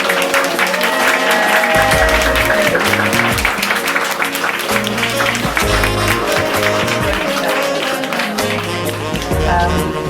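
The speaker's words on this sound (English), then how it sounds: "please give a huge round of applause to the wonderful art for phenomenal" Audience clapping and cheering at an open-mic night, loud and continuous, mixed with music and crowd noise throughout.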